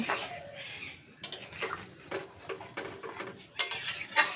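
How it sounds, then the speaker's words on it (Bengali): Sukto vegetables with water and a small bowl of milk being stirred in a pot, rhythmic metal spoon scrapes and clinks against the pot, close and fairly quiet, with light bubbling between strokes and no talking. "এবার সমস্ত কিছু খুব ভালো করে নেড়ে চেড়ে মিশিয়ে নেব"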